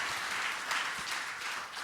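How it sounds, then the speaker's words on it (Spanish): A church congregation gives a steady wash of applause that stays soft and even throughout, with no voices heard over it. "Denle el aplauso al Señor"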